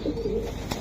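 Racer pigeon from a club loft giving a short soft coo, close and alone, lasting under a second.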